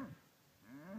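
Hereford cows on a ranch let out two low moos, one at the start and one near the end, with a quiet pause between them. They sound fairly soft and a little distant.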